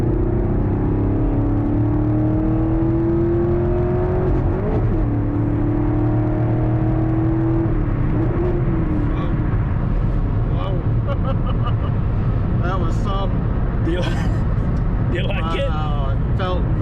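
A 6th gen Camaro SS with a manual gearbox accelerates hard on the highway, its engine drone climbing steadily in pitch inside the cabin, then a shift break and another rising pull, with voices speaking over the end.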